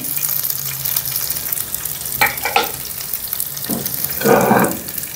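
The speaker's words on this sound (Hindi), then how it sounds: "हल्का सा इसको भूनते हैं, लहसुन अदरक और प्याज को इकट्ठा।" Onion, garlic and ginger frying in ghee, a soft steady sizzle with a few brief scraping stirs near the middle and end, close by with no talking.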